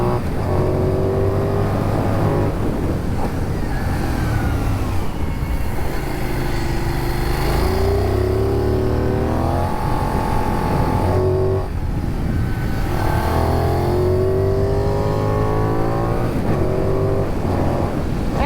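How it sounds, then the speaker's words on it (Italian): Benelli 752S naked motorcycle with a twin-cylinder engine, its loud, close exhaust note rising and falling through repeated rev climbs and gear changes at steady road speed, with no talking. "avete sentito che gran bel rumore di scarico fa il bicilindrico"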